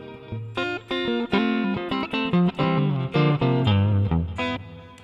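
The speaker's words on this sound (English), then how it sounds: "I'm going to put on a church reverb." Electric guitar played through a Mooer GE200 multi-effects unit with a low-level church reverb, long decay and darkened tone, picking a melodic line of single notes and short chords that ring into a smooth wash, alone.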